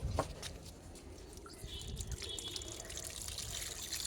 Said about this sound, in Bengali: এখন আমি কাঁকড়াগুলোকে ভালোভাবে জল দিয়ে ধুয়ে নিচ্ছি